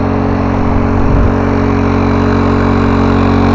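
A small four-cycle motor runs steadily close by, a loud continuous low hum and drone with a slight bump in its tone early on, no talking over it.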